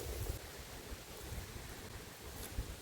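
Strong wind gusting across an open farm field roars as a steady, loud, broadband buffeting rush against the microphone, swelling in brief gusts throughout with no other sounds standing out.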